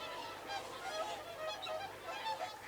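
Whooper swans calling, a chorus of overlapping honking, bugle-like calls from a flock that rise and fall in bursts at moderate distance.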